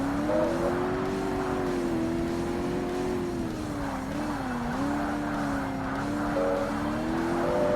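Classic sports car engines racing in the Xbox game Forza Motorsport during a championship event, a continuous droning engine note rising and falling with revs, steady and loud throughout without any talk.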